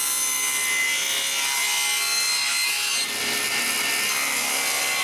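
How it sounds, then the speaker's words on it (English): A saw cuts through maple at a 45-degree angle, giving a continuous loud, gritty rasp of blade through hardwood that holds steady throughout, with no talk. "When the glue is dry, I cut the maple at 45 degrees."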